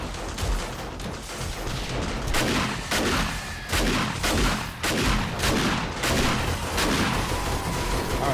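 Sustained gunfire in 7 Days to Die at a fortified mansion base, dense rapid shots and booms layered over one another without pause, loud and continuous.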